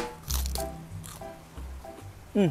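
Biting into fresh, wide-leafed lettuce grown healthy, producing a few sharp crunchy bites with brief chewing crackles between them, close to the mic.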